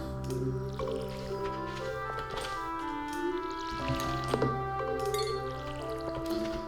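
Crops being watered in the Stardew Valley farming game, with soft squishy splashing and dripping sounds running over cheerful background music for several seconds, no voices.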